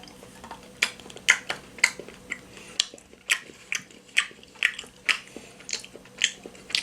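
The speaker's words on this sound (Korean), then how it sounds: "정말 귀여운 피카츄 초콜릿 과연 어떠한 맛인지 먹어보도록 하겠습니다" Someone bites into and chews a Pikachu-shaped chocolate, giving close, crisp snapping bites and moist chewing clicks in an irregular rhythm with no talk.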